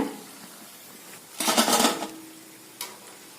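Wheat bondas frying in hot oil give a burst of bubbling sizzle lasting about half a second, then a brief second crackle, both close against a quiet kitchen background with no talking.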